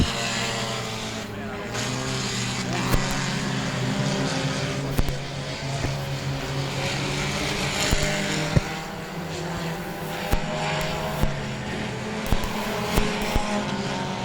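Dirt track race cars roar through the final lap at Cotton Bowl Speedway, a loud continuous engine drone with layered harmonics and repeated sharp pops and bangs, while an announcer calls the race over the noise.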